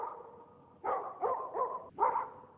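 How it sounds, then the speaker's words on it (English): A dog barks a few times in quick succession after a short quiet stretch, sounding somewhat muffled and recorded. "That bark was alerting people that something was wrong."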